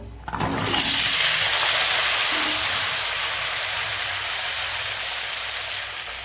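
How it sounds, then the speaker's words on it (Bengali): Pointed gourd (potol) pieces dropped into hot oil erupt in a sudden loud sizzle, then settle into a steady, slowly fading hiss. "এবার পটলগুলো ভেজে নেব"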